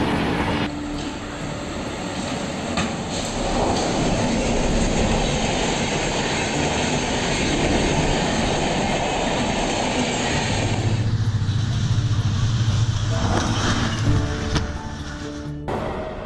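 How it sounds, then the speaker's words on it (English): A train rumbles past on the tracks with steady, loud wheel noise and rattling cars, fading slightly near the end with a faint squeal. "When the train passed"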